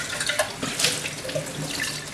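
A kitchen faucet opened to a medium flow runs steadily into a sink for rinsing, a close, even hiss and splash with no talk.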